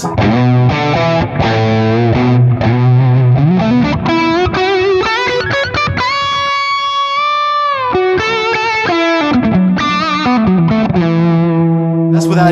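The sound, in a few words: electric guitar lead tone through Lone Star amp, echo, loop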